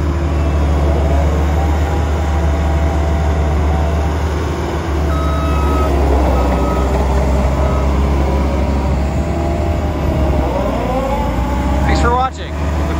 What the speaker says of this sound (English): In case you couldn't hear it, that was the Vibratory going right there.